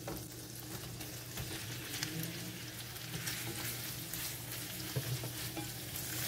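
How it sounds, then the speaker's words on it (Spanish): Shrimp frying in a pan of garlic, butter and oil, giving a steady close sizzle with light stirring scrapes throughout and no talking. "Vamos a sofreírlo un poquito."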